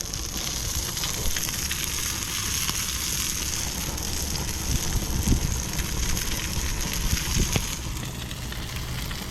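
A salmon fillet, left unflipped, sizzles in a pan, giving a steady hiss and crackle that holds even throughout.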